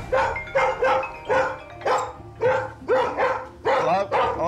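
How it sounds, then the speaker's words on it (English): A dog barks in a frenzied, repeated burst of about ten loud, close barks in steady rhythm, some rising into yelps, with no talking. "I've seen dogs bark when the phone goes off"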